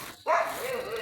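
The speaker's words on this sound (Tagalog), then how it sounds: "May mga aso, delikado." A single short dog bark, fairly close, rising sharply and then trailing off into a brief yelping tail.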